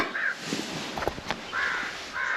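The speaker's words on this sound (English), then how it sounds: "the birds are out in force today. Listen to that." Crows caw outdoors in a few separate, fairly clear calls spread across a quiet background, with no talking.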